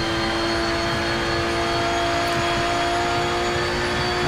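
A Porsche GT3 race car engine in the Rennsport game drones steadily and loudly at Hockenheim, a dense continuous roar with sustained harmonic whine and no gear changes or voices across the stretch.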